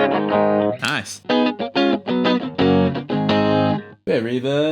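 Electric guitar played through a Fender Vaporizer tube amp with its reverb on, loud clean-to-gritty chords and single notes in short bursts with pauses, ringing tails between phrases.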